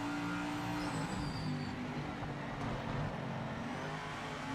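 A race car engine in the video game Project Motor Racing drones steadily at a distance, a faint, continuous mechanical hum with a slight rising whine and no voices.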